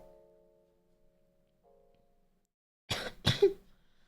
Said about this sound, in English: Let me cough.